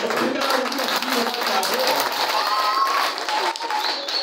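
Audience applause during a French-language sermon, a dense, steady wash of clapping from a crowd filling the whole stretch, with voices mixed in underneath.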